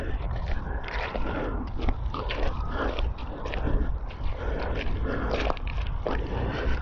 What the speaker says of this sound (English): I'm crunching over all the beech nut shells